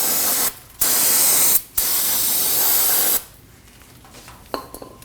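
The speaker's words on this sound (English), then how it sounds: "To do that, I'm going to use a little brake parts cleaner." Brake parts cleaner is sprayed into the hub bore of a 2003-2006 Subaru Baja during a rear wheel bearing job: three loud, close hissing aerosol bursts separated by brief gaps, followed by quieter handling noises.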